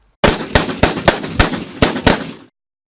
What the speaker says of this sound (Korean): 안중근 의사는 품 안에 숨겨두었던 브라우닝 자동권총으로 7발의 총탄을 발사합니다.